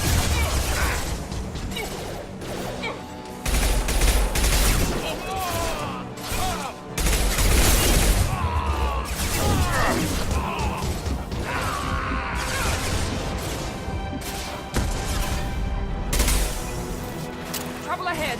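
Grenade blasts and bursts of gunfire in the video game Mass Effect 2 fill a dense, loud combat mix of repeated crashes and cracks, with voices talking over the fighting throughout.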